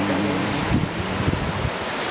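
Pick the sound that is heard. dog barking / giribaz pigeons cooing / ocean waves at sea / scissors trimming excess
ocean waves at sea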